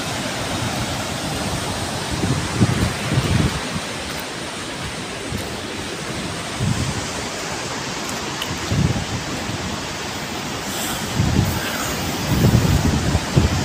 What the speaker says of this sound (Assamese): ইয়াত বহুত বতাহ বলি আছে